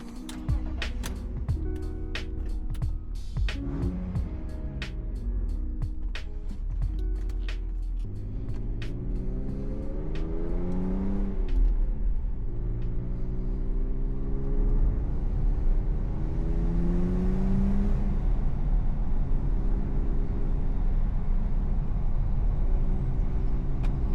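BMW E46 engine running while driving, a steady rumbling drone with rising and falling pitch sweeps as the car accelerates and shifts, continuous and fairly loud throughout with no talking.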